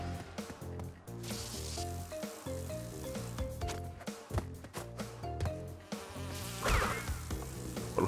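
A buzzing bee in Crash Bandicoot N-Sane Trilogy, faint and partly masked by crackling electricity and the game's music, with a sharp zap near the end.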